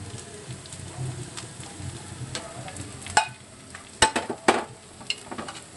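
Potato and onion sabzi is stirred in a pan over soft frying sizzle, with a few sharp spoon scrapes and clinks against the metal, and no talk.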